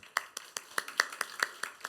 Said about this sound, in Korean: 일어나서 박수 한 번씩